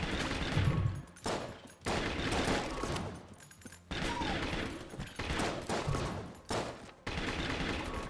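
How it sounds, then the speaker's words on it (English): Brick breaker weapon shots firing in Enter the Gungeon, played in All Jammed Mode as the character Shade, mixed with dense game effects and bursts of gunfire in a busy, loud, continuous stream with brief gaps. "we can fire off a few of the brick breaker shots"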